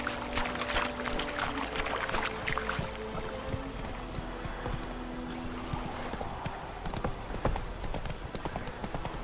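Roach, Geralt's horse in the video game The Witcher 3: Wild Hunt, gallops with rapid, steady clip-clop hoofbeats, close and continuous over soft ambient game sound.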